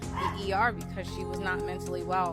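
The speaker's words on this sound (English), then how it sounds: "Sorry about my dog." A dog yips and whimpers close by in a series of high, whining barks that overlap a person talking.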